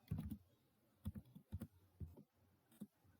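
A computer keyboard clicks in short, irregular bursts as a data record is typed in, the keystrokes soft and close with no talking.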